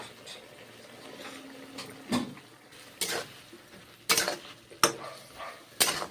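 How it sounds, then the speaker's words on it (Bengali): Cauliflower and mushroom curry sautéed with salt, turmeric and ground ginger: a few scattered metal scrapes and clinks of a spoon against the pan, fairly close, with quiet gaps between strokes. "নেড়ে চেড়ে কষে নিচ্ছি"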